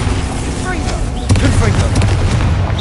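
A Bombarda spell blast in Hogwarts Legacy, a deep boom that lands about midway and rumbles on under a busy mix of magical whooshes and shouted voices.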